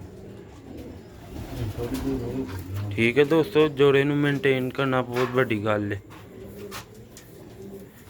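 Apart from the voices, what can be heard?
Sialkoti and Ferozpuri pigeons cooing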